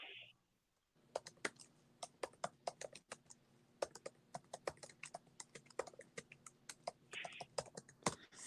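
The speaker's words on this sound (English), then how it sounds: "Sorry if I'm making noise in the background, typing, etc." Keys clack on a computer keyboard in irregular bursts of quick taps, fairly quiet and close, after a brief silent pause at the start.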